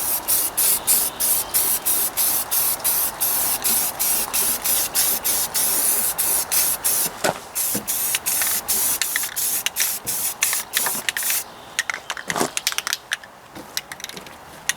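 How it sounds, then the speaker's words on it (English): Aerosol primer sprayed in rapid, repeated short bursts onto a new Ford 800 cylinder head, close and hissing, the bursts growing sparser toward the end. "I'm just going to do the one coat of primer though."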